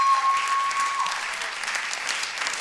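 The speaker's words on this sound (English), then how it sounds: "I big round of applause for Kyle" Applause from a comedy club audience at a 2013 stand-up show fills the room with dense, continuous clapping at a steady level.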